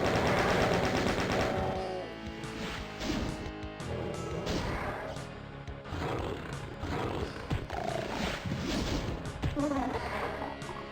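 Enemy gunfire from a shotgunner and a chain gunner rattles through the Doom mod Back to Saturn X, rapid loud bursts mixed with monster roars and crashing impacts amid heavy game music and effects.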